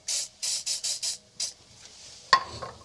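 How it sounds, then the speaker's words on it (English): WD-40 sprayed onto a 3/4-inch heater hose for a Cadillac 472 engine: six short, close hissing bursts in quick rhythm, followed by a sharp clunk. "bit of the WD-40 on there and make your hose installation easier"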